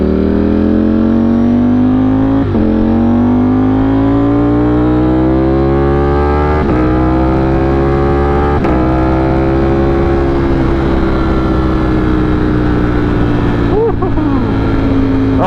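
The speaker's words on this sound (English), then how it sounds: "the bike is running so good right now" A motorcycle engine runs steadily and loud close by, its pitch climbing slowly as it revs, with a few sharp shifts and blips along the way and no voices over it.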